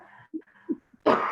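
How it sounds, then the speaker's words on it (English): A few soft throat noises and short vocal sounds, ending in a brief, louder throat-clearing rasp close to the mic. "As I clear my throat"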